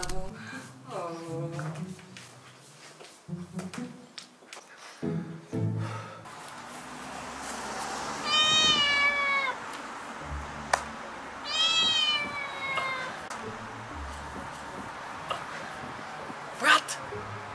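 A cat meows several times in drawn-out, wavering cries, some close and some slightly farther off, over outdoor background noise, while people talk at the start.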